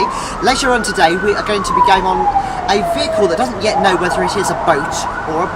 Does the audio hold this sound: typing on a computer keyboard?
no